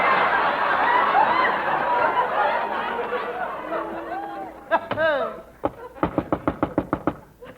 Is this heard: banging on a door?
yes